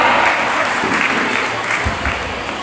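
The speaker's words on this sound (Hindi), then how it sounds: "जोरदार तालियों से स्वागत कीजिए ज्योतिबा फुले और सावित्री बाई का" A college audience at a Teachers' Day function claps loudly to welcome guests on stage, a thick continuous wash of applause that stays even and close for the whole stretch.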